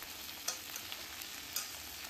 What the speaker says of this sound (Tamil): வெண்டைக்காய் சேர்த்துட்டு இந்த ஆயிலே வந்து நல்லா வதக்கி எடுத்துக்கலாம்